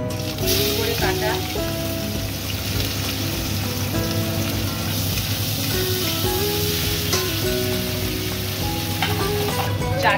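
Chopped raw onions hitting hot oil and ghee with cardamom, cloves and cinnamon, a dense steady sizzle with faint tonal background sound running underneath throughout.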